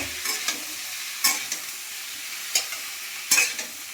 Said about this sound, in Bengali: দিয়ে আমি একটু ভালো করে ফুলকপিটাকে ভেজে নেব